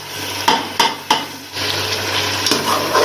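Tomato paste made from two tomatoes goes into a pan of frying chicken for a spicy capsicum curry, with a few sharp spoon knocks on the pan followed by steady sizzling and stirring, close and loud.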